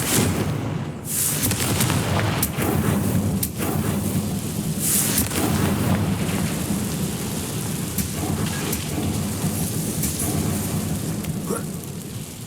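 A Confringo blasting spell cast in the Hogwarts Legacy video game, heard as a loud, dense rumbling burst with crackling, thunder-like booms and sharp transients running throughout, with no talk.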